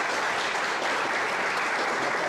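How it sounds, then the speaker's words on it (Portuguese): A lecture audience bursts into full, even applause, dense clapping that fills the room without a break and drowns out any other sound. "Antes de iniciar, então, eu peço uma salva de palmas."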